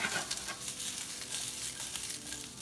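Brussels sprouts sauté in a pan, a quiet, steady hiss of frying with faint crackles and light stirring movement throughout, with no voices.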